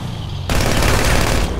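A loud, close burst of rapid automatic gunfire in the video game GTA 5, a dense fusillade of shots lasting about a second, with no talking.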